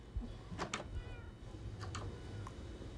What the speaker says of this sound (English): This is a whole bunch of cats.